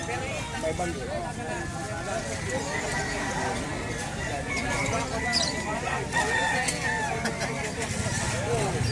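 A yellow rooster crows amid a busy bird collection with other fowl clucking, the call rising over steady background noise while people talk nearby.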